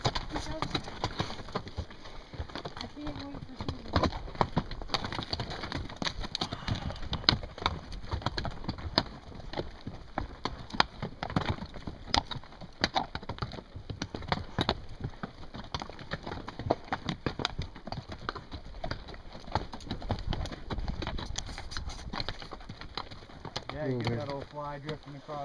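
Horses' hooves clip-clop along a mountain trail ride in Oregon's Eagle Cap area, a steady uneven patter running throughout with riders talking over it and occasional birdsong.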